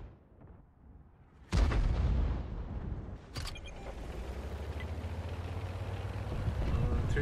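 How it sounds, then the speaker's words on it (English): Heavy artillery fire in the World of Tanks video game, a sudden loud booming blast followed by a second impact and a long rumbling roar that continues to the end, with a brief voice before the first blast. "Heavy artillery is ready."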